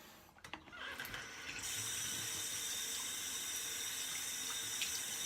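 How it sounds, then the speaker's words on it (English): Tap water runs steadily into a sink while a shaving brush is rinsed under it, a close continuous splashing hiss after a few brief clicks and handling noises at the start. "I'm gonna wash out my brush here."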